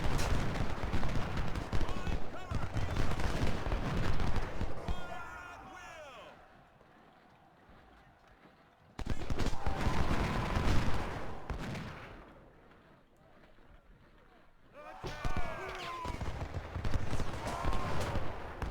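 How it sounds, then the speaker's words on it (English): Musket and sniper gunfire crackles during a Gettysburg battle in Ultimate General: Civil War, heavy clustered shots alternating with quieter lulls, with a voice talking over the firing. "the sniper is still shooting at him"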